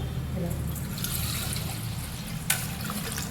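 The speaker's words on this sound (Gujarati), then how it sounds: "પાણી એડ કરી દઉં" Water is poured into a pot of vegetable khichdi of dal and rice, a continuous close trickle and splash over a steady background, with one brief sharp clatter near the end.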